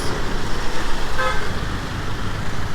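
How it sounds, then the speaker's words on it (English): Busy Bangkok street traffic, with a dense engine rumble and a short car horn toot standing out briefly near the middle, close by and fairly loud. "this traffic in Bangkok is crazy"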